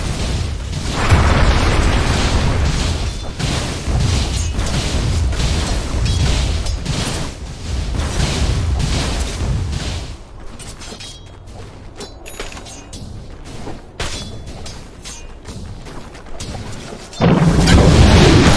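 Repeated blasts and crashing impacts as a tower comes under attack and falls in a Dota 2 match, loud booming bursts in close succession, a quieter stretch of scattered hits, then a heavy final crash.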